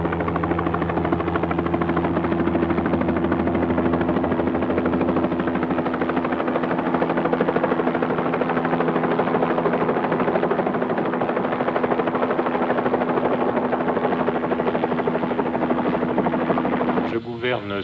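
A helicopter flying with the ship Calypso in icy polar waters gives a loud, steady rotor drone with a low pulsing throb, sustained without break and cutting off near the end.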